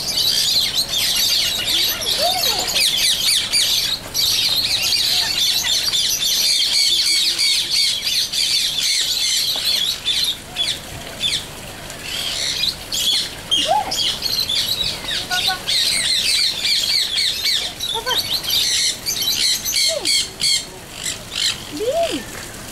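A dense chorus of birds squawks, chirps and calls continuously at KL Bird Park in Kuala Lumpur, loud and close, with sharp squawks rising out of the busy chatter.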